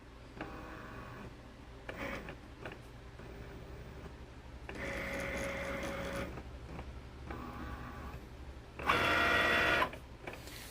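A Cricut cutting machine works through several separate mechanical bursts, its motor whirring and buzzing as it grabs printed paper and scans registration marks, with a louder final burst near the end and no talk.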